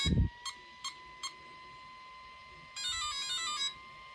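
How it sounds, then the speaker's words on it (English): An RC car's electronic speed controller gives three short beeps in quick succession, followed by a brief rising melodic ready chime, clear and close with no voices. "3 beeps, which is 3S, and that's the ready tone"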